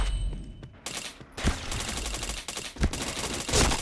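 Bursts of rapid gunfire in the shooting game Point Blank, several loud volleys with brief gaps between them and sharp single shots mixed in, with nobody talking.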